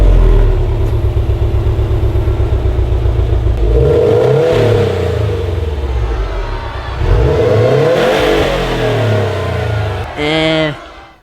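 Subaru fitted with a Tomei Expreme Ti titanium exhaust revving close by, a deep rumbling idle rising into two strong throttle sweeps, with people talking over it.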